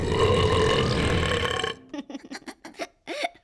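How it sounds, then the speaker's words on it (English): A cartoon baby lets out a huge, long burp lasting well over a second, followed by a few short bursts of voice. "That was the biggest burp ever, even for a big baby."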